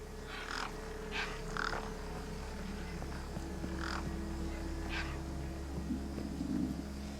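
Crows caw in the video game Beyond a Steel Sky, several harsh calls spaced a second or two apart over a low steady background drone.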